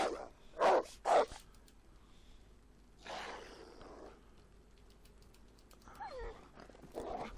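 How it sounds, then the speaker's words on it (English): Dogs bark outside in DayZ on Xbox, on the Chernarus map. Clusters of sharp barks and yips come in three bursts separated by quieter gaps, heard at a moderate distance. "So what are we going to do about these doggies that are outside?"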